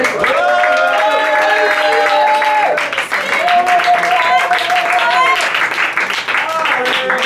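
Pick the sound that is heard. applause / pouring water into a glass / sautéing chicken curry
applause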